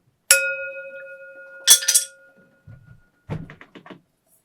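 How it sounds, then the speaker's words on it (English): A bell is struck twice, each strike ringing out clearly and decaying slowly, followed by a couple of soft knocks and rustles. "I'm going to ring the bell."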